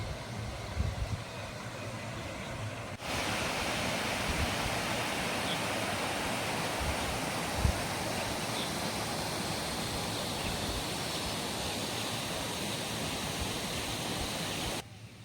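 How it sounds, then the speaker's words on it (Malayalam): A steady, powerful roar of rushing water fills the whole stretch, dense and unbroken, as water pours over the spillway of Anayirankal Dam in Kerala. "ഇവിടെ നിന്നാണ് സ്പിൽവേയിലൂടെ വെള്ളം ഒഴുകുന്നത്"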